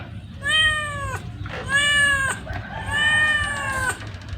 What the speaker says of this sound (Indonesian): Kucingna tangkarakeun.